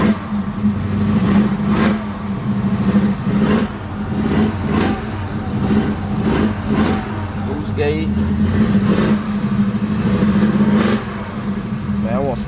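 A car engine revs and runs steadily throughout, with a low droning hum and repeated surges of acceleration, moderately loud and close, with people talking over it.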